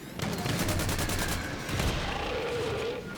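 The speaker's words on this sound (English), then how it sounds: "Oh, the Vulcan cannons are so nice against this thing." Vulcan cannon fire in the video game Disintegration rattles in rapid, dense bursts with heavy low rumble and explosions, loud and sustained throughout.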